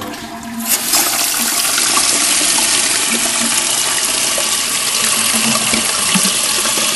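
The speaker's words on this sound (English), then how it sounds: "now the cistern is refilled with water, it's time to check to make sure the flap works" A toilet with a newly replaced handle flushes loudly nearby, a rushing surge of water that settles into a steady gurgling drain and refill lasting several seconds.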